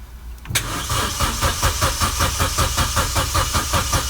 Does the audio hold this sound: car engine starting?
yes